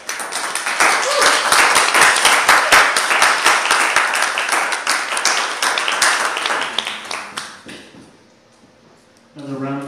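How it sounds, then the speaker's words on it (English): Audience applause at a live sword-fighting performance show, dense clapping filling most of the stretch and fading out near the end before a voice starts speaking. "Another round of applause"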